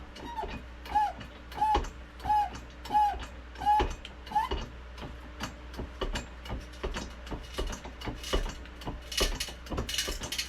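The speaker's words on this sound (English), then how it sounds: "Shut the valve and start pump it." Hand-pumping a hydraulic press to break a piece of timber: a steady run of about six rhythmic mechanical clicks and squeaks at the start, then irregular creaks, ticks and cracking as the wood strains, close and moderately loud.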